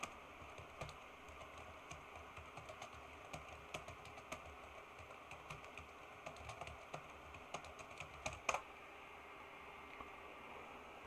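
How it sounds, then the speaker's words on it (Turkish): A password is typed on a computer keyboard: scattered soft key taps run steadily over a faint background hiss, closing with a few louder presses, likely the Enter key, near and quiet. "Sonra bunu dedikten sonra enter'a basıyorum. Şifremi giriyorum."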